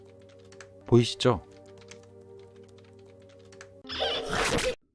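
A man types quickly on a computer keyboard with both hands in a sheriff's office. There is a short spoken question first, then a dense burst of close keystrokes over a steady low hum.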